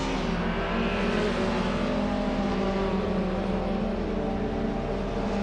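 Engines of racing cars, a Volvo Estate and Vauxhall Cavaliers in a video game, drone and whine steadily at close range, a continuous layered roar without talk.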